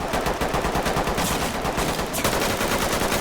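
Sustained automatic gunfire from a video game, dense rapid bursts filling the whole stretch at high, steady loudness, with no talk over it.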